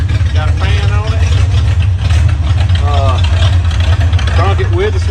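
A 1968 Ford Mustang engine idles on its own with a fuel pump hooked up and a fan running, a loud, steady low rumble that continues throughout while someone talks over it.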